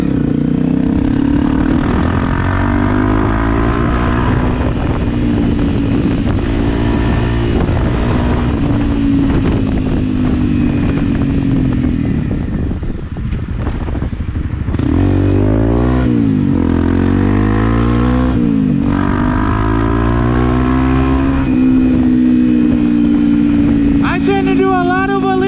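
A Honda CRF 250 Rally dual-sport motorcycle being ridden at speed, its steady engine drone rising and falling in pitch under constant heavy wind buffeting.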